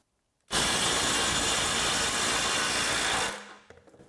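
A Kobalt 24V KWC 5024B-03 1/2-inch compact impact wrench loosening a fastener in speed mode 3 on a 4 Ah battery, starting abruptly after a short silence, then one sustained dense rattling hammer burst that cuts off and trails into brief clicks.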